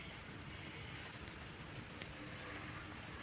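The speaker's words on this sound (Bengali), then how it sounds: "দেখো এই যে এখনও বৃষ্টি পড়ছে, ফিসফিস করে বৃষ্টি হয়েই যাচ্ছে।" Soft, steady rain falling outside, a faint even hiss of drops on surfaces with no other sounds standing out.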